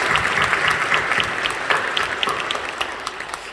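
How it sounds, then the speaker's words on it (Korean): A church congregation applauds during a deacons' dedication worship service, a dense, steady wash of many hands clapping that holds for the whole stretch with little fade. "우리 사랑하고 격려하며 박수해 주시죠."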